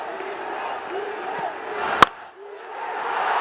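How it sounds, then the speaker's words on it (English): Stadium crowd at a BPL Twenty20 cricket match in 2025, Dhaka Capitals against Sylhet Strikers, roars steadily through a tense finish, with one sharp loud crack standing out midway before the cheering swells again. "The crowd is on their feet."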